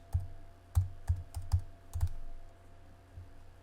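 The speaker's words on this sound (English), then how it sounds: "let me type universe" Keys clacking on a computer keyboard: about six or seven distinct, close taps in an uneven typing rhythm, then a quieter trailing tap, with no voices.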